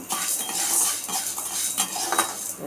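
Chana dal and urad dal are dry-roasted in a pan while a metal spoon scrapes and stirs them, giving close, continuous rattling and scraping with faint sizzling and no speech.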